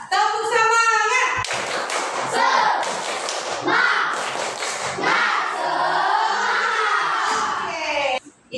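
A classroom group claps a fast rhythmic pattern while shouting the energetic 'tepuk semangat' chant together, loud and close, with bright voices over sharp handclaps.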